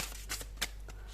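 A thick, oversized tarot deck being shuffled, a few quick papery riffles and card slaps close by in a quiet room.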